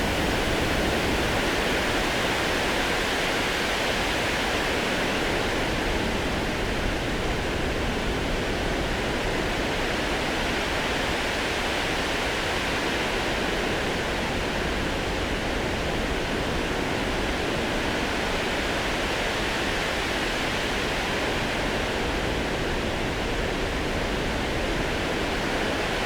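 River water of the Ardèche rushing steadily around a paddled boat, a dense, even broadband wash that holds at a constant level throughout with no talking.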